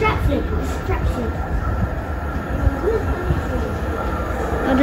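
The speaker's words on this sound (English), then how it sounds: "It says stand back, train approaching" A DLR train pulling into a London station, with a steady, loud rumble of wheels and motors. People talk over it.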